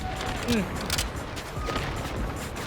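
Gunfire in the Delta Force video game, with overlapping bursts of shots cracking under a steady wash of in-game noise, and a voice talking over them.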